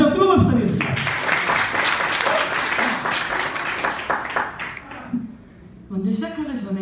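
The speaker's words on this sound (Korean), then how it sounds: "다시 한번 뜨거운 박수 드리겠습니다" Hearty applause from a wedding audience fills the hall, dense and sustained, then thins and fades toward the end as a voice starts speaking.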